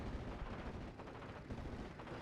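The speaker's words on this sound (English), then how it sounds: "Just firing his little rinky-dink machine guns the entire Bomber time." In a World War II video game, a Junkers bomber's gunner fires machine guns in a rapid, continuous, faint chatter of overlapping shots that keeps going for the whole stretch.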